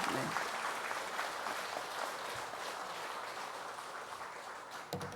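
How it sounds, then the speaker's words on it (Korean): A gathering at a Korean Won Buddhist temple service claps together in welcome, steady dense applause that carries on evenly for several seconds before tapering. "함께 박수 보내주시겠습니다."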